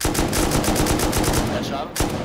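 Rapid automatic gunfire in the survival game Rust, a dense continuous burst of shots lasting most of the moment, loud and close, with a brief pause before a final sharp shot.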